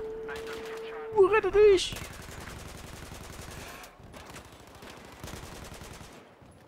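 Bursts of gunfire in a Battlefield 4 multiplayer match, with a sharp loud burst early and then rapid repeated shots continuing under someone talking in German.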